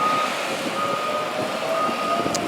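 A snow plow truck sounds its reversing alarm outdoors on a bitterly cold, windy winter day, a steady electronic tone held over rumbling wind and engine noise, with no talk.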